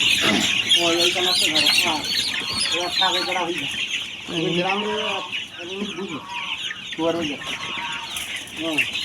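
Sonali chicken chicks cluck and chirp during beak trimming: a dense, continuous, close chorus of overlapping calls that stays loud throughout.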